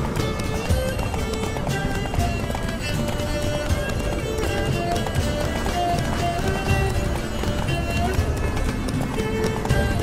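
A horse gallops in The Witcher 3 video game, its steady hoofbeats running throughout beneath game music and a voice talking.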